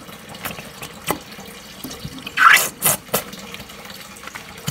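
Wholesale natural virgin hair being washed with shampoo under running tap water, a close, low splashing flow with a few louder gushes and splashes in the middle.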